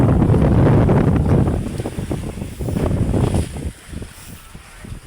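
Strong wind buffets the microphone aboard a mother boat at sea in rough weather, with heavy low rumble and surging gusts that ease toward the end, and waves or water rushing beneath.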